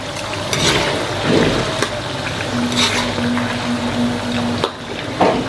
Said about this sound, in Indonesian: langsung aja kita masukin kentang untuk digoreng